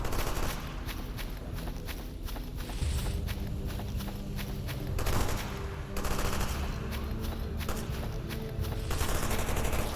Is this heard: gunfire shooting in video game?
yes